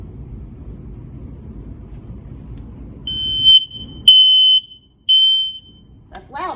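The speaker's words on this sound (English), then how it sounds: "You know what a working smoke alarm sounds like, right?" A household smoke alarm being tested gives several loud, shrill electronic beeps: one around the three-second mark, then longer tones, preceded by low rumbling background noise, with no one speaking over it.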